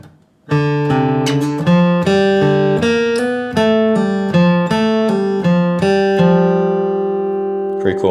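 A quick bluegrass flatpicking lick on acoustic guitar, bright picked single notes in a steady rhythm, ending on a ringing sustained note.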